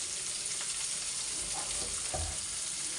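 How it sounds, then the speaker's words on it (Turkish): Steady, hissing sizzle of food frying in hot oil, bubbling vigorously, constant and close, with a few faint clinks and stirring sounds. "çok güzel kaynıyor"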